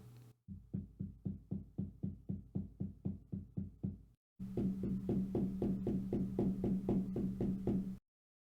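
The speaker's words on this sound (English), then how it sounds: "I'm slightly tapping the desk" Soft, regular taps on a desk, about three per second, continuing in two runs separated by a brief pause, close and fairly quiet.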